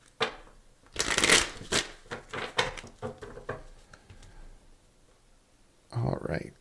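Tarot cards are shuffled up close in a flurry of crisp riffling bursts and soft taps, pausing into near quiet before one last short shuffle; a voice is also heard during the clip.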